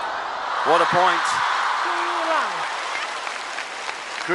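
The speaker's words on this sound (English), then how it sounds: "Greeted by a roar from the crowd." Crowd at a table tennis World Cup match in Macao bursts into loud, sustained applause and cheering after a point, with an announcer's voice over the noise.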